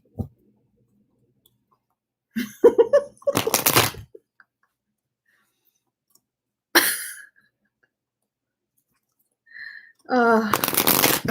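Oracle cards are shuffled in a few short, crisp riffling bursts separated by quiet pauses, with light handling clicks and a brief breath nearby.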